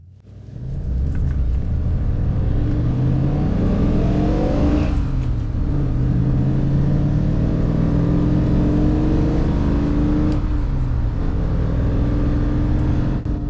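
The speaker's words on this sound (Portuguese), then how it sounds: "Vamos passar pelas marchas de novo agora." A 1967 Maserati Quattroporte Mk1 with its 4.2-litre engine pulls through the gears from inside the car, a loud continuous rumble rising in pitch, dipping at each shift and climbing again, with no talk.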